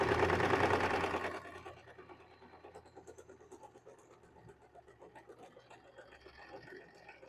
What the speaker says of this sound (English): I'm going to do a French seam on this because I don't want anything exposed.